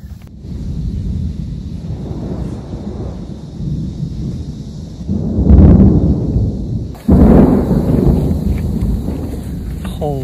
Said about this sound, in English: there's a big thunderstorm that's starting